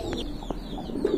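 Domestic pigeons kept for sale coo softly nearby in a short burst of low, throaty calls with a faint background murmur.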